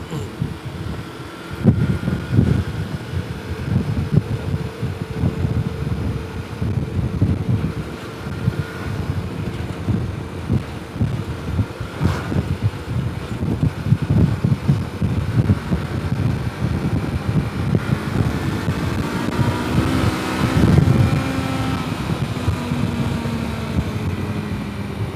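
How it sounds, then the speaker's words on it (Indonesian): A Kawasaki Versys 250 motorcycle accelerates uphill in fourth gear to pass a truck, its engine a steady, continuous drone buried under heavy wind buffeting, with no talking. "Kalian bisa melihat akselerasinya gigi 4 untuk mendahului truk tadi."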